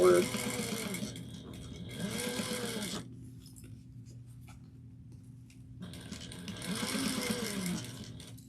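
Sewing machine stitching a bag's fabric lining at a quarter-inch seam, whirring in two rapid runs, then pausing for a few seconds before running again, close and moderately loud with a faint voice underneath.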